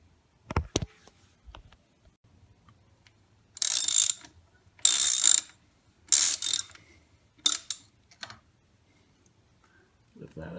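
A ratchet cranks a frame slider bolt into a Ninja 300 motorcycle, heard as four separate bursts of rapid close clicking after a couple of sharp knocks, with quiet pauses in between.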